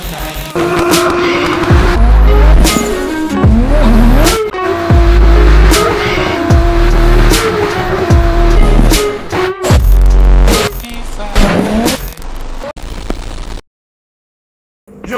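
Audi RS6 C7 Performance rated at 605 hp and 750 Nm, engine roaring through repeated loud revs with sharp exhaust pops and bangs crackling between them, close and powerful, ending abruptly in silence.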